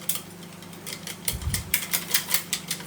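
A Tupperware whisk beats corn flour in a container, giving a run of quick, regular clicking and tapping strokes that grow louder and more rhythmic toward the end, close and clear with no talk.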